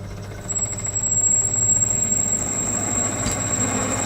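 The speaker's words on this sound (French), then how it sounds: "le bruit que vous entendez, c'est le fiston qui s'amuse avec le tour." Lathe turning in a home workshop, a steady broadband mechanical drone with a constant high whine, running continuously and fairly loud with no voices.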